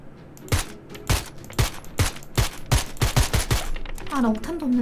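Rapid gunfire crackles through a competitive shooter video game match. About ten sharp shots ring out in a fast, uneven burst, loud and close, and then a short voiced sound follows.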